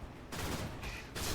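A flak cannon in the real-time strategy game Stormgate fires on enemy Fiends, three dense crackling bursts of shots in quick succession, loud and close, with no voices over them.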